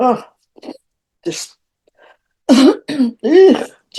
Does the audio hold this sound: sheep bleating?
no